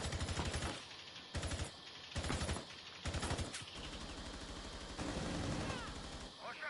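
Rapid bursts of automatic gunfire from a PS4 multiplayer shooter video game, several close, loud volleys of machine-gun fire broken by short pauses, with a voice talking faintly underneath.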